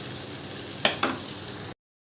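Onion and tomato frying in oil for Bengali boal fish curry, an even close sizzle broken by a few brisk stirring scrapes before it cuts to silence, no voices.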